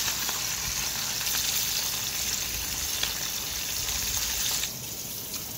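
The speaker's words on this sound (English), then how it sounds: "They need to fry a little bit more" Fish frying in hot oil in a pan for Jamaican escovitch fish, a steady, close broadband sizzle that carries on throughout with no talk, easing slightly near the end.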